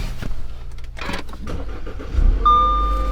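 An Audi A4 with a newly replaced battery turns over: a few clicks and a short cranking, then the engine catches and settles into a loud, steady idle with a high warning chime.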